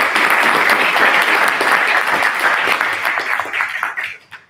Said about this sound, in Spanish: Demos una aplauso.